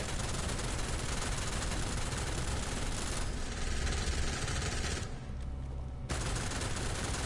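Gunfire in the shooter game Deadzone Rogue comes as a dense, continuous barrage of rapid shots, loud and close, with a brief thinning near the end before the firing resumes.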